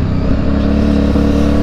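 A Yamaha Byson motorcycle engine runs steadily while being ridden, a loud, close, continuous low rumble with a firm, even drone throughout.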